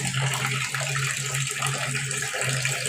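Water runs slowly from a tap, a continuous splashing gush with a low hum underneath and no voices.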